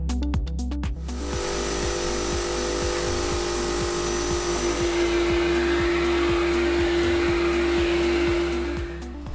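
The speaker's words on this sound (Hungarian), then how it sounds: "majd jöhetett a kárpittisztítógép" An upholstery cleaning machine runs continuously while deep-cleaning the seats of a 30-year-old car, a steady loud motor whine with a repeating pulsing rhythm after a few brief starts.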